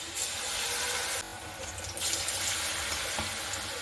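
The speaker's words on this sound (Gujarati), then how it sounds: "હવે આપણે આ ગોટાને એકદમ ધીમા ગેસે તળવાના છે" Farali gota fritters frying in oil over a low gas flame give a steady, close sizzle that briefly drops in intensity before bubbling back up; no voices.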